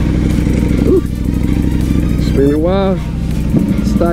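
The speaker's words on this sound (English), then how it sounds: "That Acropovich exhaust rumbling real nice." A Ducati V4 Superleggera motorcycle with an Akrapovic exhaust rumbles loudly and steadily at idle close by, with a brief rising rev midway, while someone talks over it.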